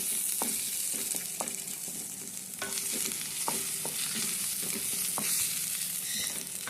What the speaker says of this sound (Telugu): అల్లం వెల్లిగడ్డ పేస్ట్ అనేది కొంచెం పచ్చి వాసన పోయేదాకా కలపండి